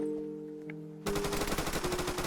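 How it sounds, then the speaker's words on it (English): Rapid automatic gunfire from the Roblox game ER:LC bursts in after a second of quieter ambience, a dense, fast, loud rattle of shots continuing to the end. "Oh no, I hear shooting."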